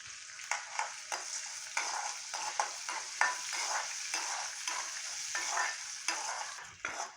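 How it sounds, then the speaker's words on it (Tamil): Cashews and raisins fry in ghee in a kadai, a close hissing sizzle punctuated by regular scraping strokes of a spoon stirring the pan, with no voices. "நெய்யில் முந்திரி, திராட்சை ரெண்டையும் வறுத்துக்க போகிறோம்."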